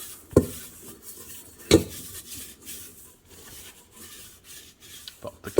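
Olive oil being spread around the inside of a mixing bowl while making Italian pizza dough, with a few sharp clinks against the bowl and soft rubbing and scraping in between, close and fairly quiet.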